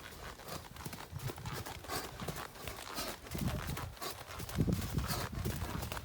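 Steady hoofbeats of a horse walking during dressage training on a tight circle, a soft repeating thud close by with rustling and no talk.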